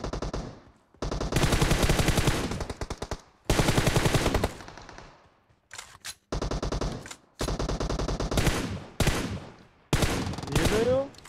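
M4 rifle fire in a video game, loud close automatic bursts in several separate strings broken by short silences, some bursts ending with ringing tails.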